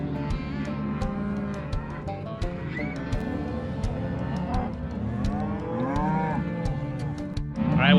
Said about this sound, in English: now what they're doing is they're gonna sort all the cows and the calves off